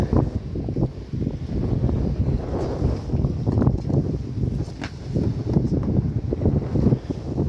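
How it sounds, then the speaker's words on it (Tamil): Continuous gusty wind at sea, far from land, buffets the microphone, a rough low rumble that swells and eases throughout with no voices. "இப்போயும் உங்களுக்கு பேக்ரவுண்டில் காற்று சவுண்டு கேட்கும்"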